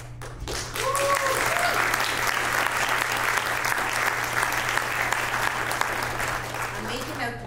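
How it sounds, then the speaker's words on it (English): An audience applauds award recipients on stage at a community impact award ceremony honoring a record county fundraising team, steady dense clapping lasting several seconds with some murmured voices underneath. "I want you to hear that applause and feel it, please."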